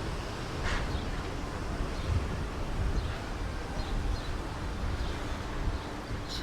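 Steady wind blows across an open seaside resort promenade on a chilly, breezy day, a constant broadband rush with soft gusts and faint rustling, no voices.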